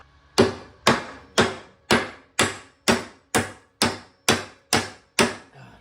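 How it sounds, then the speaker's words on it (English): Eleven sharp hammer strikes ring out at a steady, even pace, each a bright metallic tap that decays quickly, close by and alone, tapping a metal part out of a Bobcat soil conditioner. "Maybe I can just tap it out with the hammer."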